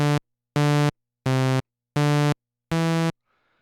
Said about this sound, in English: It has no decay, and then it immediately goes to the sustain level, and then it has an immediate release.